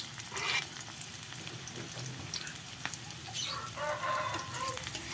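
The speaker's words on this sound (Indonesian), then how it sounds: "Ditumis sampai bawang putih dan bawang merahnya harum atau sampai layu ya" Shallots and garlic sauté in hot oil with a steady close sizzle and crackle, stirred now and then, for a dish of leunca in the Sundanese style.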